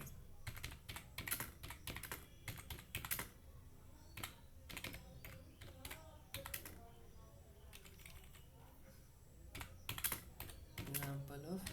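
Computer keyboard typing C program code, with irregular bursts of quick keystrokes at a moderate distance, a voice talking faintly in the background.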